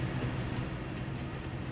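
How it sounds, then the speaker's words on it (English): A train rolling through the countryside in the farming game Farming Simulator 22 gives a low, steady rumble and hum. It is fairly quiet and continuous, with no distinct clacks. "Train will drive to Erlengrad and will return on the other side of the map."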